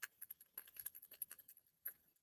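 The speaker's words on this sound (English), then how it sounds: "Let's roll the dice." Dice rolled during a live tarot reading, a quick series of light clattering, rattling clicks in bursts with a final tumble, fairly faint and close, with no talk over them.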